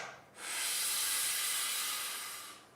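A person draws a breath in through an open mouth to fill the lower chest while practising saxophone breathing. It is one long, steady, airy hiss lasting about two seconds, close and loud, with no talk.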